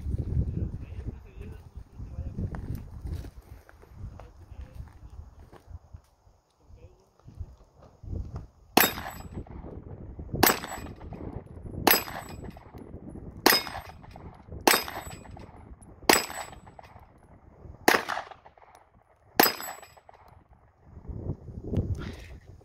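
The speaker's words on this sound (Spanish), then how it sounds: "Ahorita vamos a calarla y vamos a platicarles qué tal sentimos los disparos." Eight sharp 9mm pistol shots from a Colt 1911 on an outdoor range, fired one at a time at roughly even intervals of about a second and a half, loud and close, after a stretch of quiet talk and shuffling.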